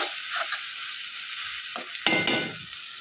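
Ground chili paste with turmeric stir-fried in oil in a pan, a steady close sizzle broken by scraping spatula strokes and a louder stirring burst near the end.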